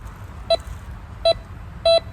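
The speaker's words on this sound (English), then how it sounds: "I'm getting beeping, that means something is below the surface" A metal detector gives three short electronic beeps at a steady spacing, the last held slightly longer, over a low background hum, while sweeping over buried metal.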